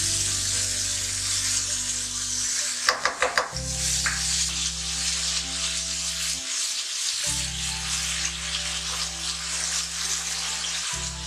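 Garlic paste sizzling and frying in hot oil in a home kitchen as a fish curry is started, a steady broad hiss with a few brief clatters of stirring, close and alone with no talk.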